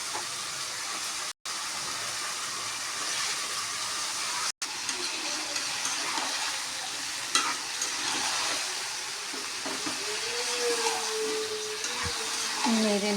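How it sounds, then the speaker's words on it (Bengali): Meat sizzles in a pan with spices while being stirred, a steady frying hiss with occasional scraping and clinks, fairly quiet, with brief interruptions and a few soft sounds near the end. "নেড়ে নিচ্ছি, মাংসটা নেড়ে চেড়ে মিশিয়ে দিচ্ছি"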